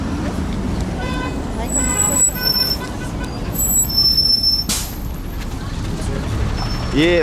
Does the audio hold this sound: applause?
no